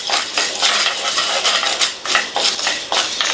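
Metal scrapes and clatters against a pan in quick repeated strokes, dry roasting spices without oil over medium heat, a dry rattling stir close by with no talking.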